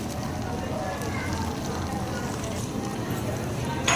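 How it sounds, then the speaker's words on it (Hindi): Crispy potato snacks fry in hot oil with a steady, even sizzle and crackle throughout. Someone talks over the frying. "तो इसी तरह हम इसे उल्ट करके फ्राई करेंगे।"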